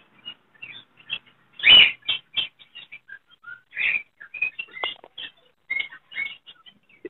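Black-headed, orange-chested lovebirds at a Sunday bird market, giving sharp, close chirps and squeaks in irregular bursts with short gaps between them, no talk.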